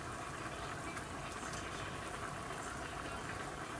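Adobo-style chicken liver simmers in a pan, producing a steady, dense bubbling hiss at low, even loudness with no voices.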